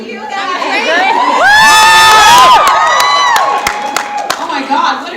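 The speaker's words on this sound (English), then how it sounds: "Oh my God, what a crowd!" Big crowd at a ClexaCon convention panel erupting in shrill screams, whoops and cheering, swelling loud and close, with scattered claps as it tapers off.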